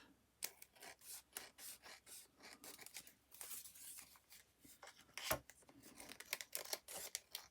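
Scissors snip trim off the edges of journal cards during papercraft, a quiet string of short crisp cuts with paper rustling and handling between them, no voices.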